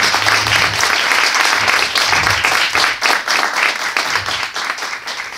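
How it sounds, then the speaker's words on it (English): Sustained applause from an audience at a gathering on confronting war, dense and continuous clapping filling the room at steady loudness throughout, with no voices above it. "one more round of applause for Bahman, Ajamu, and all of us who are here"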